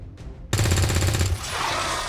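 A gunshot burst in the video game XCOM 2, a loud sustained rattle of rapid fire that breaks into a dense, noisy tail, heard alone without talk.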